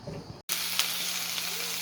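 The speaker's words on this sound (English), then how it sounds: "All right, they're starting to sizzle up" Food sizzling in a pot on a stove, a steady bright hiss that starts abruptly after a brief pause and continues loudly, with a little clatter at first.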